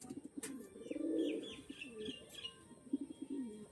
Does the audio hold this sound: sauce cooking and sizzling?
no